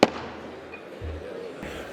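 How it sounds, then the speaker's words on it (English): Gavel striking in the House chamber, a single sharp bang at the start followed by a noisy room murmur and brief thuds. "Bang the gavel."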